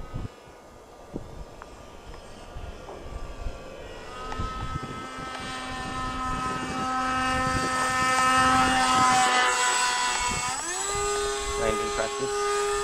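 An A-10 jet aircraft passes during landing practice, its engine whine rising from faint to loud with climbing and then sharply falling tones as it goes by, while people talk nearby.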